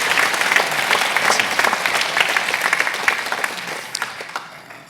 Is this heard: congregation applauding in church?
yes